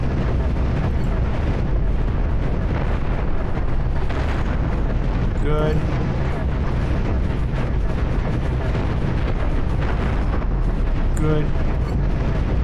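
Heavy, hard-hitting cobalt cannons fire in the space combat game Cosmoteer, a dense continuous barrage of booming, explosive shots with a few sharper bursts, loud and close, with brief speech over the top.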